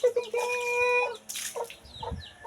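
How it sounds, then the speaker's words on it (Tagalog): Chickens on a rural Visayas farm clucking and calling, including a drawn-out tonal squawk, close by with breezy outdoor background. "Dito may mga manok. Ayan, mga manok,"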